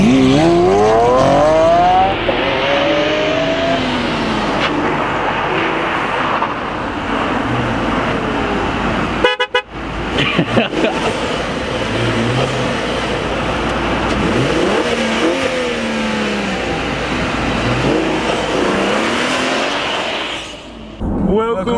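A Volvo XC70 Cross Country of just over 300 hp revs loudly and close by, its engine note rising and falling in sweeping surges with a short break midway, while people talk over it.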